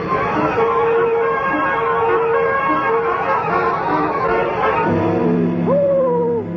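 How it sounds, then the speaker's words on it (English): An owl sound effect in a Snow White radio drama, a sustained hoot with a quavering, bending call toward the end, loud over a dense background of music or voices. "Don't try to fool the wise old owl."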